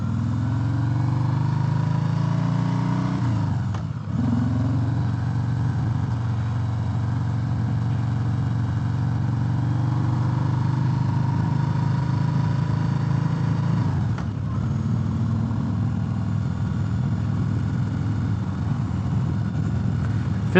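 A 2018 Harley-Davidson Sport Glide motorcycle drones steadily while riding, its low engine rumble mixed with wind noise, with one brief dip in the sound partway through and no talking.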